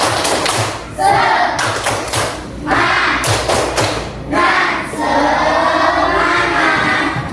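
A school class claps out a rhythmic spirit clap together, loud bursts of many hands in patterned groups separated by short pauses, with a voice calling out partway through.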